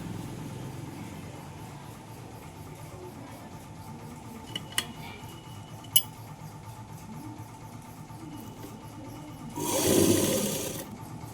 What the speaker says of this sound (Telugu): ఇప్పుడు ఇంకో స్టిచ్చింగ్ వేస్తున్నాను